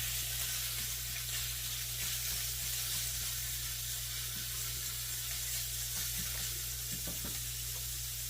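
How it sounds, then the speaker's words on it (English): Marinated pork browns in a hot pan with about a tablespoon of vegetable oil, giving a steady, close sizzle with a constant low hum beneath and a few faint clicks near the end; nobody talks. "My pan's hot, so I wanted to get it in the pan while I'm trying to talk to you all"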